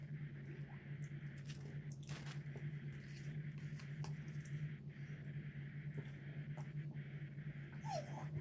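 A pet dog indoors gives soft whimpers and small snuffling, squishy movements over a constant low electrical hum, faint and close, with no talk.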